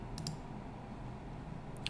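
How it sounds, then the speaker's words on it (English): A computer mouse clicks twice in quick succession and again near the end, faint and close over a quiet room hum. "So I just keep hitting, clicking"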